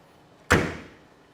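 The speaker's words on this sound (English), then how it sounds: "Trunk closes tightly." The trunk lid of a 1968 Chevrolet Camaro shuts with one solid, close metallic thump that decays quickly, with no talk.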